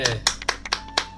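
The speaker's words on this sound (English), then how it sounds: "I unironically clapped in real life" A single person clapping hands at an in-game championship closing ceremony, five or six separate claps in a loose rhythm, close and fairly crisp, heard over background game music.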